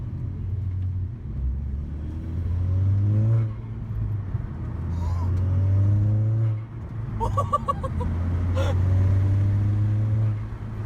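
A VW engine fitted with a diverter valve spacer revs up repeatedly, rising and falling in three long pulls with whooshing, fluttering sounds between revs, heard up close.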